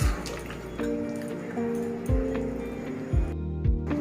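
Thin mutton curry bubbling in a wok, heard up close as low gurgling bursts and pops that recur every second or so over a steady background hiss.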